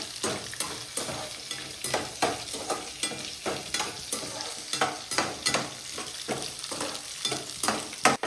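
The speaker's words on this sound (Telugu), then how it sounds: "ఎర్రగడ్డలు బాగా ఎర్రగా వేసుకున్న తర్వాత వెల్లుల్లి పేస్ట్ కొంచెం వేసుకుందాం" Onions fry in a pan for a curry, crackling and sizzling steadily as a spoon stirs and scrapes in a repeated rhythm, close and clear with no voices.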